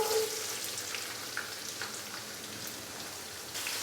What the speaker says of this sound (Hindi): प्याज को हमने लाइट ब्राउन होने तक फ्राई कर लेना है